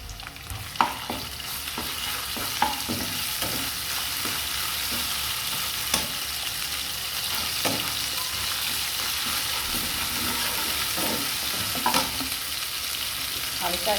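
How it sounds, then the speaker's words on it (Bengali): Ginger, garlic and cumin paste sizzles and fries with onions and chicken for morog polao, a steady loud crackle broken by occasional stirring clinks, with no talking. "দিয়ে দিচ্ছি আদা রসুন জিরা পেস্ট।"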